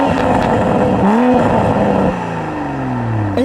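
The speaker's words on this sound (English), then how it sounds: "when you put it in sport mode, it sounds really good. Take a listen." A 2021 Toyota Supra in sport mode revs loudly up close, its exhaust rising in pitch, dropping, then climbing again in a throaty, booming note before easing off.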